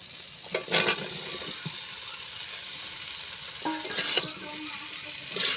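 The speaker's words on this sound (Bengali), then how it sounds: "দিয়ে আমি ভালো করে আলুটা কষিয়ে নেব" Potatoes frying in spiced oil for a fish curry, with a soft continuous sizzle and a few spoon scrapes against the pan, close but fairly quiet.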